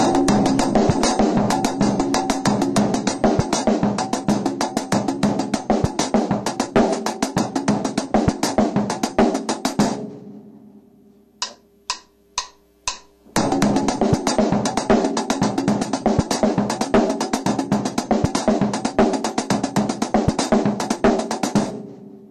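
Drum kit groove, a busy linear sticking figure with snare, hi-hat and toms, loud and close, broken by a short break with a few isolated hits before resuming.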